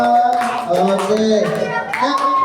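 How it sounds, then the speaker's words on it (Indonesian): A group of students in a classroom claps for a presenting class group, close, brisk and uneven, with children's voices and chatter mixed in throughout. "beri tepuk tangan dulu semuanya untuk kelompok 2"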